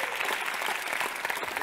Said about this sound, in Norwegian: Skal vi gi en applaus til Tove her?